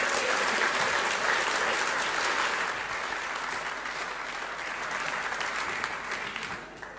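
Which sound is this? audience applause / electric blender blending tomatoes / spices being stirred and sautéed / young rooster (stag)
audience applause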